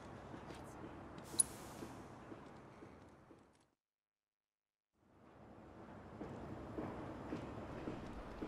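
A train running in Final Fantasy VII Remake, a faint, steady rumble of wheels and carriages that fades to total silence for a moment, then swells back in.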